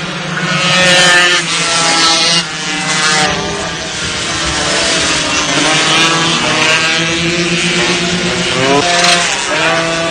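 MBK mopeds racing in the 1985 24 Hours of Le Mans moped race, loud high-pitched two-stroke engines whining and shifting pitch as they pass close, overlapping buzzes throughout.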